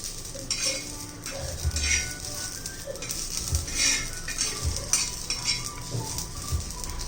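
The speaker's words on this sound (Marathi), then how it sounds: "त्यासाठी पहिले आपण मिरच्या ह्या भाजून घेऊया" Green chillies dry-roasting in a pan without oil, giving a faint crackle under repeated clinks and scrapes of a utensil turning them, with soft thumps at an uneven rhythm.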